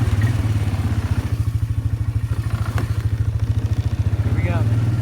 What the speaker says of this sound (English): I'm just letting the four-wheeler warm up now